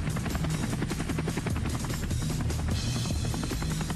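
Black Hawk helicopter hovering overhead during a rope rescue in the forest, its rotor chop a loud, steady rapid pulsing with constant engine whine throughout, close and dominant with no voices.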